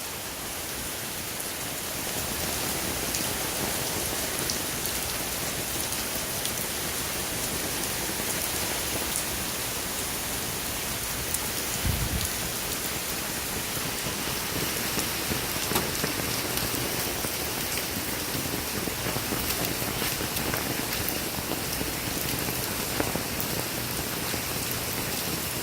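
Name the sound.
rain falling during a storm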